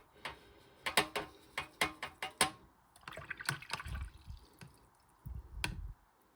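A brush stirs red watercolor paint into water, giving a quick run of sharp taps and clicks against the palette, then softer swishing and scrubbing, close up with no talking.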